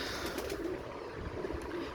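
Soft cooing of a breeder pigeon, low and muffled, repeats a few times beneath a steady wash of background noise.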